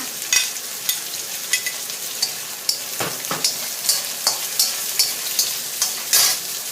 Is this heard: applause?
no